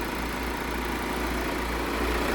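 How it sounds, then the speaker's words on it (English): An Audi A4 and a VW T5 van sit side by side with both engines idling. They produce a steady, low, droning rumble with constant vibration and no change in pitch, heard alone without any talk. "Sorry for the engine noise, we do have two running."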